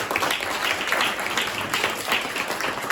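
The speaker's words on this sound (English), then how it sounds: "Y'all give yourselves a hand." Sustained audience applause fills a room at a regional dealer business meeting, dense steady clapping from many hands heard close and loud, with no talk over it.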